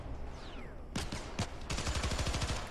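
Gunfire in Resistance 3: a couple of sharp single shots followed by a fast rattling burst, moderately loud over a low game background.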